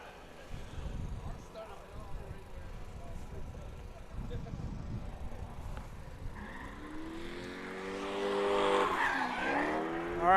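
A Mazda Miata drifts around a race track during a drift competition, its engine revving hard with rising and falling whines and loud tire squeal building toward the end, with crowd and commentary noise underneath.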